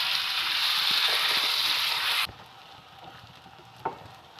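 Green chili, garlic cloves and ginger frying in hot oil in a pot make a loud, dense sizzle that cuts off abruptly halfway through, leaving quiet background with a faint clink.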